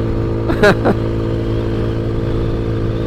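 An Ice Bear Maddog scooter being ridden gives a steady, mid-pitched engine drone that holds evenly throughout, with a brief voice breaking in near the start.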